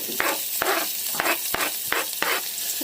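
Onion fries in oil with curry leaves in a pan, a steady close sizzle broken by about seven sharp rhythmic scrapes and stirs of a spoon against the pan.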